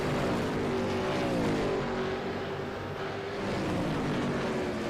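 A V8 Supercar in iRacing at Bathurst snatches third gear early, its engine droning loud and steady with a rising harmonic whine and slight dip in pitch around the shift.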